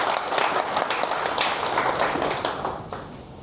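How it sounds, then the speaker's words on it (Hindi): An audience at a partner meeting claps for Sunita Williams, a dense, even spread of many hands clapping at close range, steady and fairly loud before tapering slightly toward the end. "ताली बजा दीजिए सुनीता को।"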